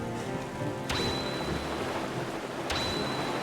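Stormy sea and thunder in the video game Zelda: Wind Waker HD, a constant roar of wind and rain with two sharp thunder cracks that ring out briefly, steady and moderately loud.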